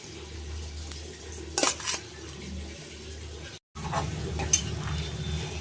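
Fried paneer pieces drop into simmering masala gravy in a pan, giving a sizzle and bubbling with a couple of clattering utensil scrapes and stirs, a brief gap, then continued soft stirring.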